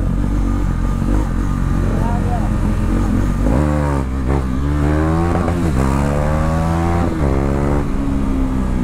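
KTM Duke 390 motorcycle ridden hard in a street race, engine revving at full throttle with rising and falling pitch through gear changes, loud and close, with a rider's voice talking over the engine.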